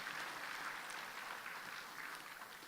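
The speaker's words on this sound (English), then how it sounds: "Let us give a big round of applause to SCSDU for the tremendous efforts in making today possible" Audience applause at the Sarawak Government Digital Week 2024 event, a steady wash of clapping held at an even level for a few seconds, moderately distant and with no voices over it.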